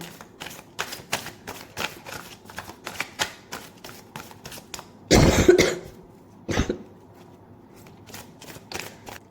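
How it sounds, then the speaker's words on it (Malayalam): Tarot cards are shuffled in quick papery riffles and soft taps, with a burst of louder rustling partway through and a short scuff after it, close up and with no speech. "ഇവിടെ കാർഡ് ഷഫിൾ ചെയ്യാൻ പോവാണ്."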